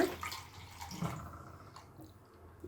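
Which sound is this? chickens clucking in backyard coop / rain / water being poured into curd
water being poured into curd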